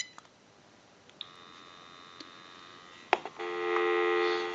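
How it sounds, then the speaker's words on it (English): Dial tone on a GE 27909 cordless telephone handset: a few faint beeps at first, then a steady, sustained tone that grows louder and holds to the end. "So I'm going to go ahead and give you some dial tone."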